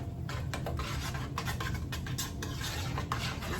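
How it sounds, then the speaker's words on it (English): Grated cheddar being stirred into mashed Andorian tuber root in a pot, a steady close scraping and rubbing of a spoon against the pot with soft thick squelches, continuous with no pauses. "Just gonna keep stirring and stirring and stirring."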